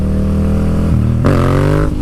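A motorcycle engine revs up close and loud in second gear, its pitch climbing steadily as it accelerates, with a brief dip before it pulls harder.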